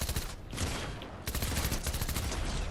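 Dense bursts of rapid gunfire in the video game Fortnite crackle continuously, loud and close, with a brief lull midway before the shooting resumes.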